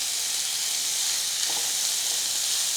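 Bitter gourd fries with salt in a pan, a constant close hiss of sizzling oil with a few faint crackles and no voices.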